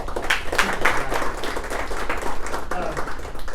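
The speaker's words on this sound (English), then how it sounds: "How about a round of applause for our panel?" A panel event audience breaks into applause, a dense burst of clapping from a crowd that continues steadily.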